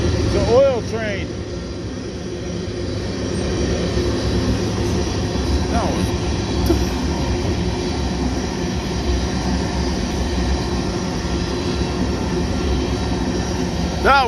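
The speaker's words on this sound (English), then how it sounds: "It's an oil train." Northbound Union Pacific oil train with a BNSF lead locomotive rolling steadily past at close range, a continuous loud rumble and clatter of wagons, with a horn-like tone near the start and people talking excitedly.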